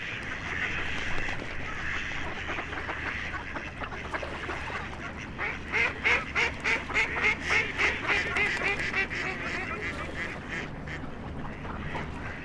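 A steady run of rapid duck quacks in a park, rhythmic and fairly close, over a background hum of outdoor ambience.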